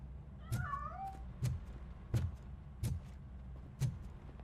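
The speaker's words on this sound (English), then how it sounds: "That cat must be hiding inside." A cat meows in the RoboCop: Rogue City game, a soft mewing call early on alongside a run of five evenly spaced thumping knocks, all faint and distant-sounding.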